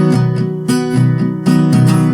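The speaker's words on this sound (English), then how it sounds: "So the strumming pattern here is just 8 down strums and then 1 up strums" Guitar strummed in a repeating pattern of sustained chords, several down strums then a quick up strum, each attack clear and close with the chord ringing between strokes, played alone.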